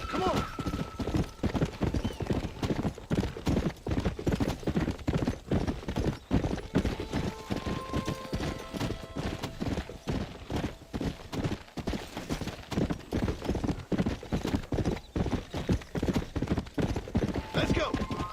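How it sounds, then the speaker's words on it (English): Horse hooves clip-clop rapidly and continuously in a video game, a fast galloping rhythm that runs the whole time, with brief whinny-like tones and faint game sounds mixed in. "E cavalo, quase caiu pra baixo."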